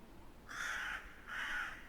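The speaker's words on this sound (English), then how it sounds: "The crows cawed through the fierce wind and the snow that blurred his vision." Crows give two drawn-out, harsh caws in quick succession, each lasting about half a second, set against a low, steady rumble of fierce wind.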